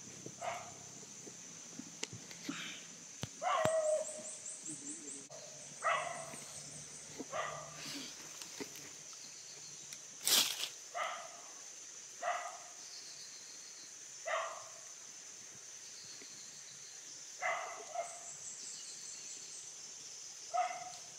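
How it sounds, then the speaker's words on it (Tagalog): A dog barks at a house in a rural hillside area, short repeated barks spaced a few seconds apart, fairly faint and distant over steady insect or bird chatter. "Yun yung aso kanina na narinig namin."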